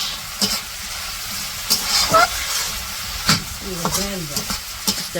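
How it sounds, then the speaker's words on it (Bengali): Vegetables fry with ginger-garlic paste in a pan, giving a steady close sizzle broken by repeated stirring scrapes and clinks from a utensil. "তো অল্প একটু আদা রসুন বাটাও দিয়ে দিল। এখন ভালো করে এটা ভাজি করে নিব।"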